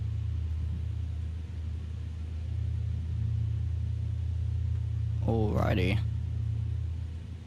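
Twin engines of a Piper PA-44 Seminole in X-Plane 12 drone steadily and fairly loud throughout after being throttled back to 2500 RPM, a constant low hum, with a brief spoken word near the end.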